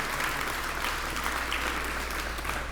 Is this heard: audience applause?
yes